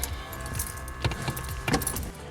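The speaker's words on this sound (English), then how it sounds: "Put the key in the ignition." A jingle of keys with a few small metallic clicks and knocks as a key slides into the ignition of a 1985 Pontiac Fiero SE, over a steady low background hum.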